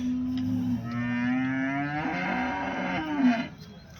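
A white water buffalo at a cattle market in Erode gives a long, loud, drawn-out low moo that swells near the end, close by with little background noise.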